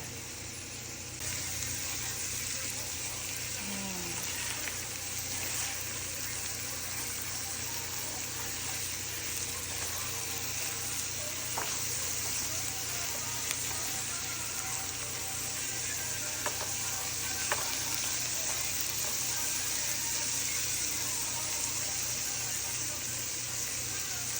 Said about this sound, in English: onions, garlic, carrots. I'm gonna mix it up. I put some butter. I'm gonna mix it up